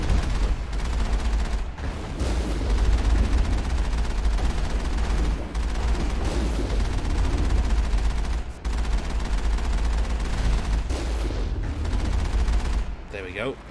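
Enemy gunfire in the Mass Effect video game rattles loud and nearly nonstop in rapid bursts, with brief pauses and heavy impacts, while a voice talks over the fighting.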